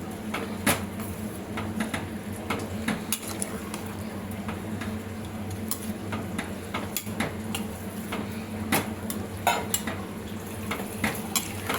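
Rice and vegetables for pulao being stirred in a pot, with steady scraping and light clinks of a spoon against metal continuing throughout at moderate volume.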